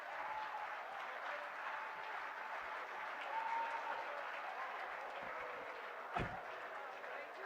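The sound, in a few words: audience applause after lecture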